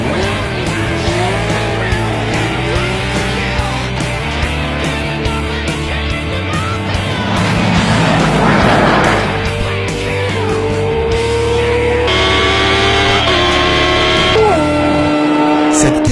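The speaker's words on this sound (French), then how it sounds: "Une Mercedes AMG GTS et son V8 biturbo." A Mercedes AMG GTS with its biturbo V8 racing a Kawasaki H2R motorcycle, engines roaring loud and sustained through rising gear pulls, with a voice talking over the racing.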